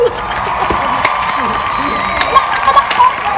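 Scattered clapping and a few cheers for a man named Glenn among a small group of shoppers in an AllHome store, with people talking over the sparse claps throughout.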